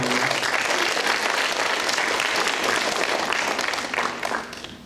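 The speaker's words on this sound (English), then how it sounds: "Let's give them a round of applause." Audience applause at a school Christmas stage production, honoring the backstage crew: a loud, dense, sustained clapping from a full room that holds steady for about four seconds before thinning and fading at the end.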